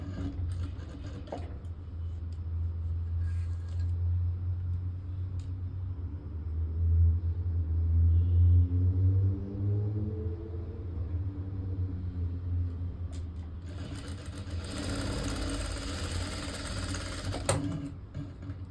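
A sewing machine stitches a lining blouse sleeve with a steady, close whirring hum that runs almost the whole way through, swelling in the middle and ending in a brighter burst near the end.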